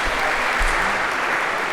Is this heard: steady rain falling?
no